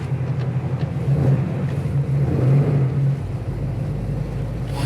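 A Chevrolet Chevelle SS pulls hard through the gears, its engine a deep, loud, steady rumble that rises and holds close by for the whole stretch, with no talk over it.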